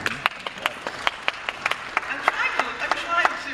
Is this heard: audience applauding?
yes